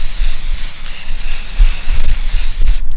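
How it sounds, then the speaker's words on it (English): Outdoor sealer and weather protector sprays from an aerosol can onto a wood sign, a loud, continuous close hiss lasting the full three seconds with slight pulsing and a few faint handling bumps. "I'm just going to shake it really well and spray the entire board."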